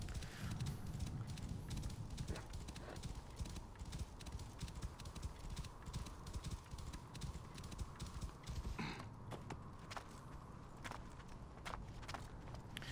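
Horse hooves clip-clop steadily at a walking pace in Assassin's Creed Origins, set among Egyptian pyramids and rocky ground, a continuous near rhythm over a dense game ambience with no talk.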